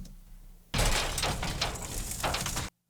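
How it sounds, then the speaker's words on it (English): Metal bars on an ATV rattle in a short burst of clattering, jangling hits lasting about two seconds, fairly close and alone, ending in an abrupt cut. "Then I have a little sound of the metal bars rattling."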